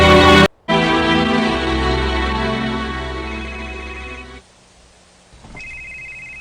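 A cellphone rings with a loud, steady electronic ringtone for about four seconds after a brief gap, then cuts off; a faint tone follows near the end, with no talking.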